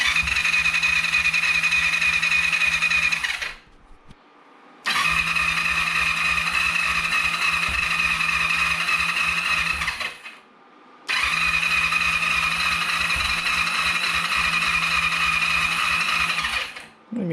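An electric starter cranks a Kawasaki ER5 motorcycle engine, being restarted after standing unused, in three long bursts of about four seconds each, with short pauses between, a steady whirring drone that turns suspiciously lightly and never catches.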